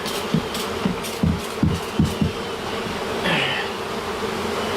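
A honeybee swarm buzzes inside a shed, a dense continuous drone with louder passes of individual bees near the microphone and a few soft knocks, no talking.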